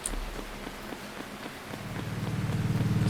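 Rain patters steadily on a surface, with rhythmic thuds of someone running through it that grow heavier and faster toward the end.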